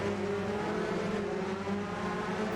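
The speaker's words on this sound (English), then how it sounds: "The distinctive raspy tone of the twin-turbo V8 is represented very well in the VRC version" An Audi R8 with a twin-turbo V8 in Assetto Corsa holds a steady raspy engine note, droning loud and continuous throughout.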